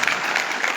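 A crowd at a rural panchayat committee meeting claps together, a brief dense burst of applause heard alone.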